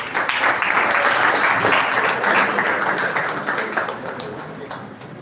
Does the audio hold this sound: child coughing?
no